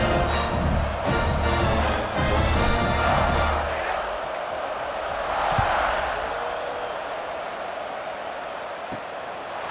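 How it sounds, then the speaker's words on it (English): Stadium crowd in the college football video game EA Sports College Football 26 roars steadily and loudly throughout, swelling and easing slightly without a break. "this crowd is feeling themselves after that last drive"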